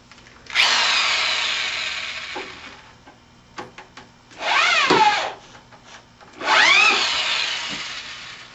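Power drill bursts while drilling on a grinding stand for a telescope optic, three loud whirring runs of a couple of seconds each with rising and falling pitch, separated by quiet gaps and small clicks.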